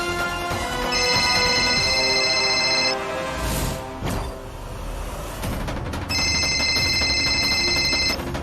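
A telephone rings indoors in two separate bursts of repeated trilling tones, with a gap between them, over background music in an Indian drama scene.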